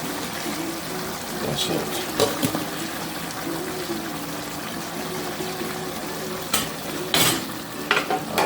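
Soup from a pot is ladled into another pot of Jamaican-style beef liver. Soft pouring and trickling sounds mix with stirring, occasional metallic clinks and a low sizzle, and someone briefly speaks.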